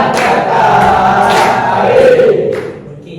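A class of students shouts a rhythmic cheer chant in unison with clapping during a language lesson, loud and close with bursts of voices over a dense crowd roar.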